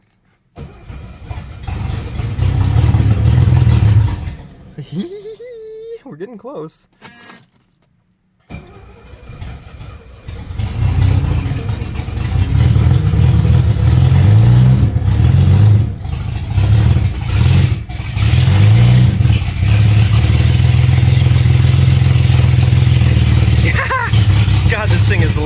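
A 1970 Mercedes-Benz 250 that has sat for months on old fuel cranks, catches and then roars, revving loud and close with a rough, uneven engine note that keeps running, while people talk over it.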